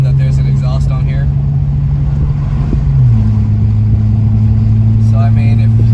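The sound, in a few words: Mercedes-Benz C43 AMG track edition exhaust while driving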